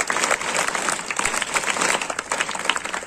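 Audience applause for a female teacher at a talk on becoming a collector: steady, dense clapping from a crowd that stays loud and continuous throughout, with no speech over it.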